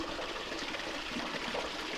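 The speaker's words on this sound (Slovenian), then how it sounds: "Zato boste slišali kar močan zvok vode, ki se pretaka." Water pours strongly out of a mountain lake at its outflow in a meadow. It makes a steady, close, full rushing sound with no other sounds over it.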